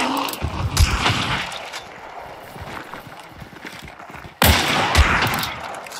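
Gunfire in Hunt: Showdown: a few sharp shots crack in the opening second, then one loud, close blast lands near the end over a murky game background.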